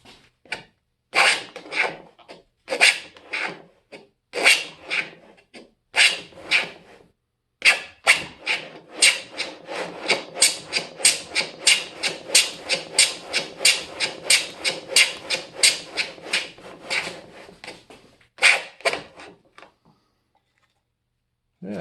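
Stanley No. 29 transitional wooden-bodied plane shaves end grain in a long run of rhythmic rasping strokes, first spaced out, then quicker and regular, close and crisp, ending in silence.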